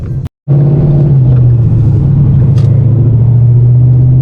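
A car on drag radial tyres cruises with a loud, steady low engine drone and road rumble after a brief cut near the start, close and continuous with no talking.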